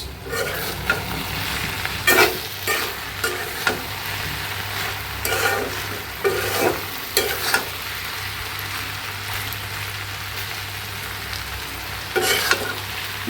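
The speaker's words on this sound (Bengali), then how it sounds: "আমি এখন একটু নাড়াচাড়া করে দেই" Okra frying in a pan for a Bangladeshi home-style dish, stirred with a spatula, giving repeated clattering scrapes at an irregular pace over a constant close-up sizzle, with no voices.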